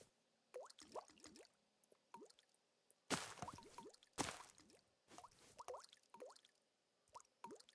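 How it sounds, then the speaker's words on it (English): Small items dropping into water in a modded Minecraft homestead world make a series of soft, bubbly bloop and plop sounds at irregular intervals, with a few louder splashy bursts in between and no talking. "When they drop on the water, they make like a bloop, bloop, bloop sound."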